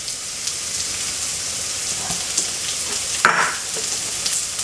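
Garlic, red onion and courgette fry in a pan with a steady, close sizzle and brief clatter from stirring partway through.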